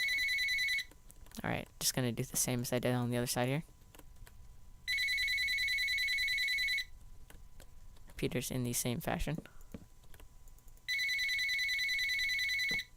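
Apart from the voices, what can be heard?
telephone ringing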